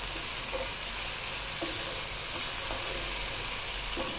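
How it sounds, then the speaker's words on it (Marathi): Tomatoes sautéing in hot oil in a pan, giving a steady close sizzle and crackle with faint occasional stirring clicks and no voices. "टोमॅटो परतत आलेला आहे"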